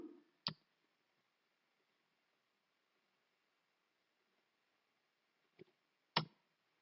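Keys on a computer keyboard are struck as a command is typed, giving a few sharp, isolated clicks spaced far apart in a near-silent room.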